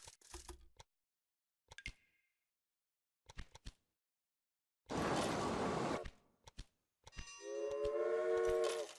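Trains from the railway-building game Railway Empire: short separate mechanical bursts, then a dense loud rumble, then a sustained tonal horn-like blast with overtones, all without speech.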